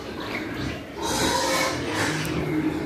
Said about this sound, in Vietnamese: Còn bên đây là heo con không nha các bạn.